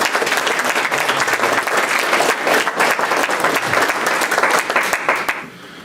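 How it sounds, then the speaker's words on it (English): Town hall audience with Sen. Ron Wyden in Lake County breaking into loud, dense applause, sustained close and full for about five seconds before abruptly dying down at the end. "Give a big round of applause"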